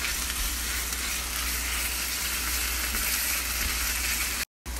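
Ginger and cardamom pods sizzle in hot oil with onion for qanbari biryani, a steady close frying hiss that runs evenly and cuts off abruptly near the end.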